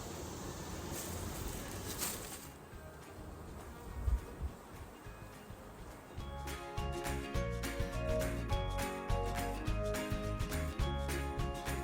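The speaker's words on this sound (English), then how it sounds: "A lot of bees. Lots of bees." A dense, droning hum of many bees buzzing around a hive nearby, steady and continuous, with some handling noise and rustling partway through.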